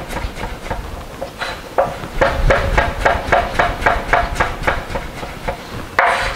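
Knife chopping vegetables on a cutting board, a run of sharp, fairly regular taps at close range, quieter at first and then steadier and louder, with no talk.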